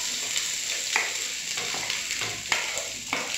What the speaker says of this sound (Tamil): லைட்டாக வறுபடட்டும்